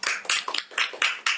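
A small audience claps in a few sharp, close bursts, the hand claps loud and separate, with no talk over them.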